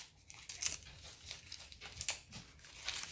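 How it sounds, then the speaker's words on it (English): Dry leaves crackle and tear as they are pulled apart by hand, a series of close, papery crinkling bursts with brief pauses between them. "They're dry and it's kind of easy to pull them apart."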